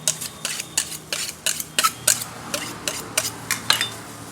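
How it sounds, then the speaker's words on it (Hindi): A knife chops through an onion on a board in steady, evenly spaced strokes, about a dozen crisp, close taps with soft scrapes between them and no talking. "प्याज को इस वाले हथियार से काटेंगे"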